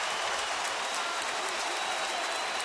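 A baseball crowd stands and cheers during a Rangers at Astros game, a steady, distant wash of applause and crowd noise that holds evenly throughout.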